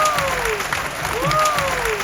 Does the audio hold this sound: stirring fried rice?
no